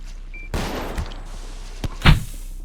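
In the Space Station 14 game, AK rifle fire comes as a short burst of muffled shots, then a few scattered thumps and one louder report near the end, all over a low constant hum.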